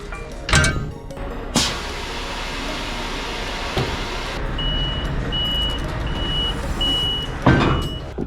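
A truck backing up toward a small loading ramp, its reversing alarm beeping in a steady, evenly spaced series over a constant engine idle, with a few sharp door-like knocks and clunks nearby.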